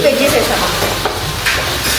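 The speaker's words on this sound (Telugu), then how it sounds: "జస్ట్ తాలింపు జస్ట్ పోపేసాము పోపేసి తాలింపు పోపేసి" Tempering spices crackle and sizzle loudly in hot oil during Sankranti cooking, a dense, close frying hiss with stirring scrapes throughout.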